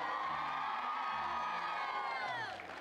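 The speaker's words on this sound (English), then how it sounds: "Get a round of applause for Trojan" A studio audience at a 1994 television game show cheers and whoops loudly, a dense wall of shouting voices with high excited yells that holds strong for nearly three seconds, then dips slightly at the end.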